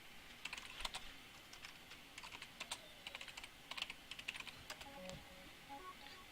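Quiet computer keyboard typing, irregular bursts of light key clicks continuing steadily at close range with no voices.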